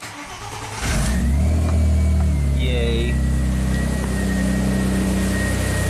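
A modified Audi A4 engine, started using a fuse jumper after a crank no-start fault, cranks and catches, then settles into a steady idle, loud and close; a brief voice cheers over it.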